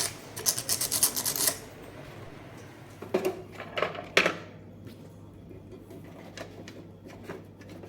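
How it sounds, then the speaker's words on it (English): Sandpaper scrubbing rust from the metal battery terminals of a modern cuckoo clock: a rapid rasping burst, a pause, then a few shorter scratchy strokes, close and fairly quiet. "We're going to at least try and remove all the rusted part. And this sandpaper is very effective for that purpose."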